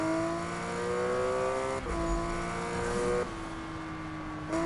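Racing car engine in Need for Speed 2015 holds a steady high whine, with a revving shift near the two-second mark and another pitch change later, loud and continuous throughout.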